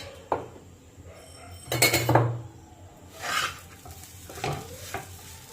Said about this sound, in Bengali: এক চামচ নুন দিয়ে দিচ্ছি স্বাদ মতো, চিনি দিয়ে দিচ্ছি 1 চামচ